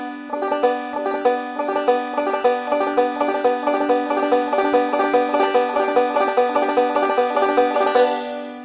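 Deering banjo played with a fingerpicked backward roll, a steady stream of bright plucked notes in an even repeating rhythm, close and clear with no talking over it.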